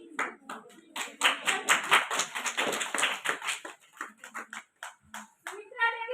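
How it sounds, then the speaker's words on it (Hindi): Participants in a four-day online training session clap in scattered bursts, close to the microphone, mixed with voices talking over them. "तालियां बजा सकते हैं।"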